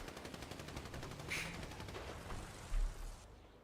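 Rapid automatic gunfire fills a video game match as players spray shots into bushes, heard as a faint, fast run of bursts with a slightly louder thump near the end and no voices.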